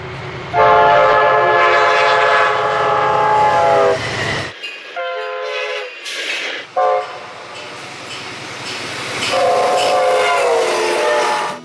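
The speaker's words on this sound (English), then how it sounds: "Most Genesis engines came equipped with Nathan K5LA air horns. Here are a few samples." An Amtrak P40 Genesis locomotive sounds its Nathan K5LA air horn in several loud chorded blasts separated by short gaps, with train rumble and wheel clatter underneath.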